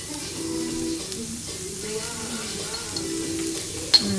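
Food in a cast iron pan sizzles with a steady soft crackle at close range, marked by occasional small pops and one sharper click near the end.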